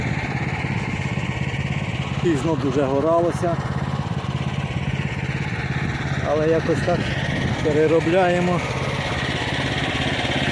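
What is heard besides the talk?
homemade mini tractor engine working a field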